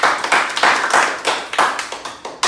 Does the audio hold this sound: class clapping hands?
yes